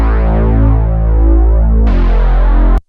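Brazian Analog Labs sub bass in a trap beat, a deep sustained low tone under the drums that shifts as the drums change near the end, loud and alone.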